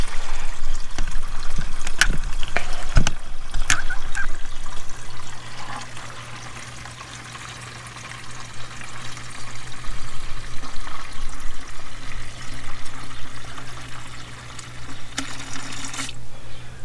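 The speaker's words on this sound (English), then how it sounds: "Just fill it to 4 quarts." Water pours into a Walmart Hyper Tough 6-quart plastic jug as it is filled to about four quarts, making a steady, fairly loud splashing flow throughout, with a few clunks near the start and no talking.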